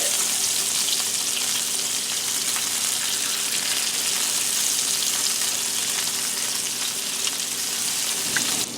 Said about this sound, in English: we're going to flip all Salisbury steaks over